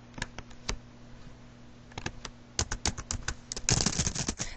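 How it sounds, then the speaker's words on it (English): Keystrokes on a computer keyboard while entering text beneath a list of recipes on a wiki page: sparse, quiet clicks at first, then a denser, louder run of rapid typing toward the end, with no one speaking. "type something in underneath all the recipes that are there"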